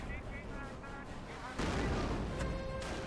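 Mortar fire in the World War II strategy game Company of Heroes booms under ongoing battle noise, with a sudden heavy blast about halfway through and another sharp hit soon after.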